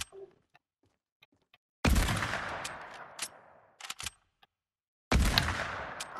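Gunfire in the video game Fortnite comes as two loud, sharp bursts that decay quickly, separated by near-silence with a few faint clicks and thuds.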